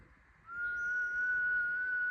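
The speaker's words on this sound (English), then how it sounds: "I can't even whistle." A person whistles outdoors, holding one thin, steady, slightly wavering note for under two seconds. It is faint but clear over a low background rumble.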